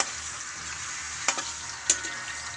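Eggs frying in a pan give a steady, soft sizzle throughout, with two brief sharp clinks or spatters standing out, no voices.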